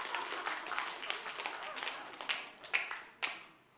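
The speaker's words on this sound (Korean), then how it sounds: "벌써 움직인다니까 벌써 박수를 치잖아" Children clap in a room, a burst of light, uneven claps, some sharper and closer than others, with faint voices underneath.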